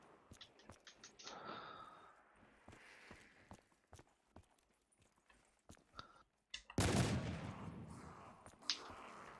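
M1 rifle fire in Black Ops 3 Custom Zombies on the Rijarta map, sparse sharp single shots through the first part, then one very loud blast followed by a dense burst of shooting and noise.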